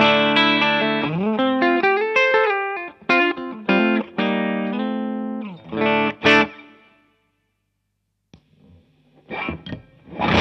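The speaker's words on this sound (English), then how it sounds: "here is my clean sound" A clean electric guitar tone through a BJFe LA Distortion pedal setup: sustained chords and single notes ring out with some chorus-like shimmer, stopping briefly before a few softer notes return near the end.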